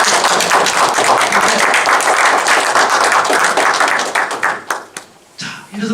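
An audience at a culture-policy forum claps together in a loud, dense burst that thins toward the end into a few scattered, separate claps and a brief pause.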